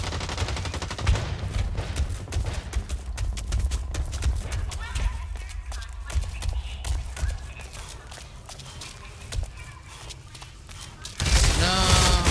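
Dense, rapid gunfire crackles almost continuously in the online shooter BlackLight: Retribution, close and loud throughout, with a heavier burst of sound near the end.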